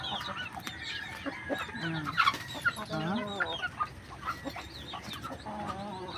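Hens cluck busily and continuously nearby on a farm in Bohol, Philippines, a rooster's calls mixed in, with a noisy farmyard background and faint voices.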